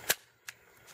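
Glock 17 pistol firing 9mm Civil Defense ammunition at a bulletproof vest, heard as one sharp, fairly distant crack followed by a weaker second report or echo.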